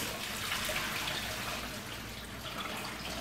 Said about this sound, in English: I'm completely draining out my onions.